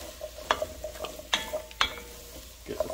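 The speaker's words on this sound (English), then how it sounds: "So now I'm just gonna add the pumpkin right inside here. Give it a nice stir." Pumpkin is stirred into a simmering lentil and spinach soup in a pot, producing soft scraping swishes, a few sharp clinks of a utensil against the pot, and a faint sizzle beneath, close up with no talk.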